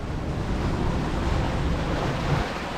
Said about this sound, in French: le vent s'est levé, la vague aussi